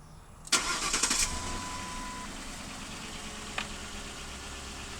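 A 2005 Lincoln Town Car fitted with a P71 Police Interceptor intake tube cranks and catches, a close, loud burst of starter whir that settles into a steady low idle, with a chime sounding briefly over it.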